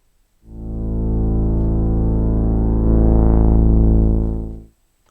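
A single sustained tone from a polyphonic Model D-style synthesizer sample, played through computer speakers, holds steady for several seconds, rich and buzzy, then stops abruptly.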